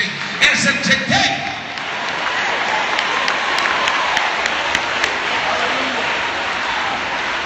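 A church congregation clapping hands during a sermon, a speaking voice at the start giving way to a sustained wash of dense clapping and crowd noise that stays loud and even to the end.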